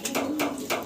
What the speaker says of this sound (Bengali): আবারও এক পিস সিঙ্গেল এক্সিবিশন কবুতর দেখাচ্ছি